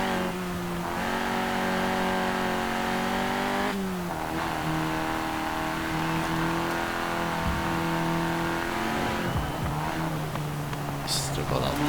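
Car engine in Forza Horizon 4 holding a steady loud drone with shifting pitch, dipping and rising again as the car brakes and turns into a corner, with a brief tyre squeal near the end.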